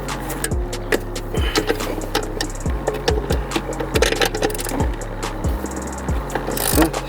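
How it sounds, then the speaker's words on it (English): A small ratchet on an extension loosens a clutch bracket nut on an Acura TSX / Honda Accord, giving a run of rapid clicking strokes in a repeating rhythm, close and fairly loud, with no talking. "What I used is a smaller ratchet with extension and a longer 12"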